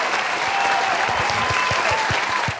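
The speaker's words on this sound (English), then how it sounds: "Round of applause." Applause in a podcast studio, a steady bed of clapping with several distinct louder claps standing out near the microphone, staying loud until an abrupt cut.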